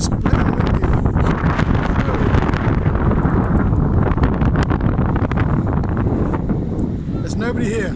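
Strong wind at Camber Sands beach buffets the microphone in a loud, continuous roar with gusty rumbling throughout, and brief voices can be heard beneath it.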